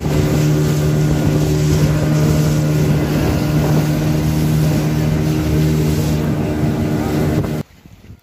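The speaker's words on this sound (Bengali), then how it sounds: "আমরা স্পিড বোর্ডে উঠতেছি" Speedboat ride out to Chhera Dwip island off Saint Martin, its engine droning loud and steady with wind buffeting the microphone, then cutting off sharply near the end.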